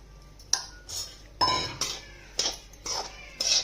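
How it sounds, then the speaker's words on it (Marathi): Mustard seed dal being dry-roasted in a kadhai over a gas flame, heard as a handful of sharp metallic scrapes and clinks of a spoon against the pan, spaced irregularly and fairly close. "मोहरीची डाळ भाजून घेते पहिल्यांदा"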